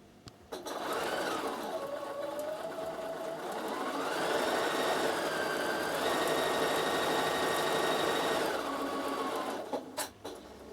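A Bernina sewing machine runs a sustained stitching burst, its motor whirring up and down in pitch at close range, then stops with a few clicks at the end.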